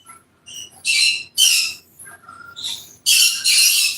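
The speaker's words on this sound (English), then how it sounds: "hearing my birds singing with Elmo" Pet birds sing and squawk in short, bright bursts close by, with brief pauses between calls and no talking.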